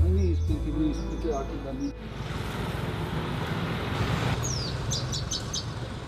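Morning birds chirp in an Amazon village at Leticia, with short, clear calls over a steady outdoor hum and faint wind, moderately near but soft.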